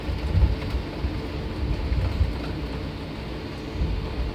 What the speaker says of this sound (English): Oh, why is it still raining?